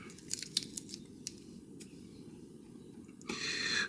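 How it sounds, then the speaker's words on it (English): Adhesive tape is pulled off the body of a Steinberger guitar, a few sharp crinkly ticks giving way to a louder, sustained ripping peel at the end, close up over a steady low hum. "Off comes the tape."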